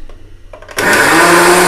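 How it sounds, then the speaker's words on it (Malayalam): After a quiet start with a few faint clicks, a mixer grinder roars to life, grinding dried red chilli and salt for a papadum chutney, its loud steady whir continuing alone to the end. "ഉപ്പും കൂടി ഞാൻ ഇതിലേക്ക് ഇട്ടിട്ട് മിക്സിയിൽ അടിക്കാൻ പോവാണ്."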